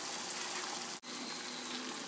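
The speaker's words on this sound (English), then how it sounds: "now you're going to want to put a little bit of water in there" Water streams steadily into a pan of chicken tikka masala, a steady, moderately quiet gush that breaks briefly in the middle and then flows on.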